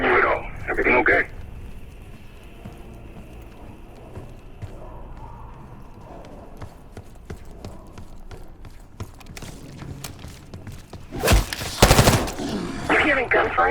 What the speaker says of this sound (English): You hearing gunfire? Yeah. Sounds like it's coming from one of the lower floors